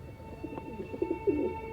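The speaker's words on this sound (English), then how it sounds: "I thought that was a stomach grumbling at first, but it's just the pigeons." Soft, low cooing from pigeons, a few muffled throaty coos in a row, faint and somewhat distant against a quiet background hum.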